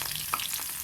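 Garlic frying in hot oil with cumin in a kadhai, a steady close sizzle with faint crackles and pops.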